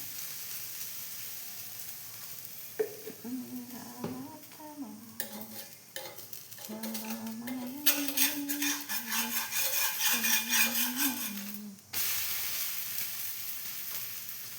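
Dosa batter frying on a hot pan after a drizzle of coconut oil, a steady close sizzle with scraping and clinking of a utensil over a faint tonal hum, growing busier and louder before stopping abruptly.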